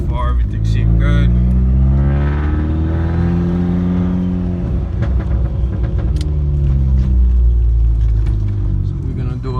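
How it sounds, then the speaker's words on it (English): Audi A4 fitted with a Walbro 450 fuel pump pulling hard on a test drive, its engine droning loud and steady with rising harmonic sweeps as it accelerates, heard from inside the car. "So we're gonna do a little pull."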